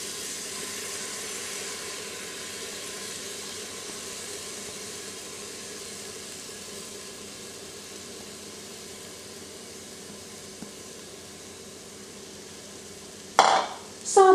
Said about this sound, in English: Sauté the ingredients, stirring occasionally.